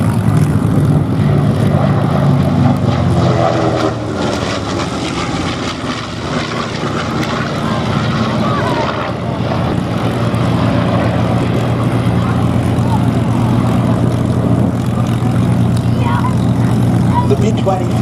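A B-25 bomber with propeller engines flies at an air show, a loud, steady piston drone with a sweeping rise and fall as it passes, with a voice talking over it.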